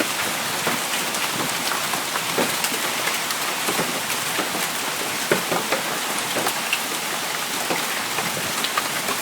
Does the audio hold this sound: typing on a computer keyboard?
no